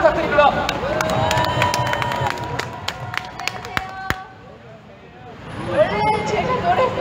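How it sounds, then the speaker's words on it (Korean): A crowd at an outdoor political rally in Korea marking the 40th anniversary of President Park Chung-hee's death claps and cheers in a broad, continuous wash of applause, dipping briefly before swelling again, with voices in the mix. "큰 박수 부탁드립니다."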